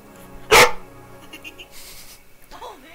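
A single loud, close dog bark from the Sly Cooper video game, followed by quieter game sounds and murmurs.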